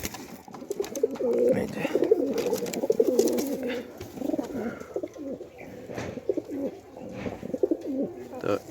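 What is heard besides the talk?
pigeons cooing, newly caught pigeon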